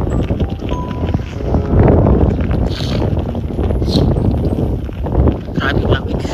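Strong, cold spring wind buffets the microphone in a small Alberta town, a loud, continuous rumbling roar with gusts that swell and ease.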